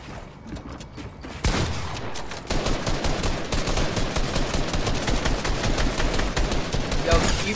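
Gunfire in a Fortnite Arena match: loud, dense, rapid bursts of shots crackle almost continuously and up close, after a brief quieter lead-in.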